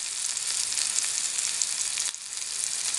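Chicken tikka pieces sizzle in a non-stick pan, a steady close crackling hiss of frying with a brief dip as the pieces are stirred, with no voices.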